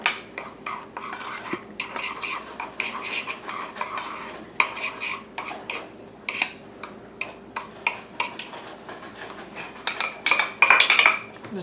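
A utensil stirring a flour mixture in a bowl to break up lumps for Southern-style fried corn, with repeated rhythmic clinks and scrapes against the bowl, close and clear.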